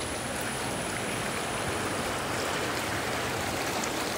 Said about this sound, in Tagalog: Yung ilog.